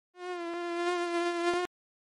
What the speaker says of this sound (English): Mosquito or mosquito.